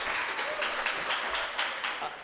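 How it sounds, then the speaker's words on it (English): A summer camp homecoming crowd gives a short round of applause for a camper, a dense, steady wash of clapping with a few voices mixed in. "round of applause for Alyssa, everyone"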